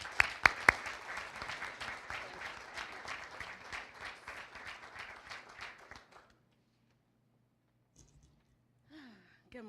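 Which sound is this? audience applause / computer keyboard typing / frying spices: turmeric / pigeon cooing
audience applause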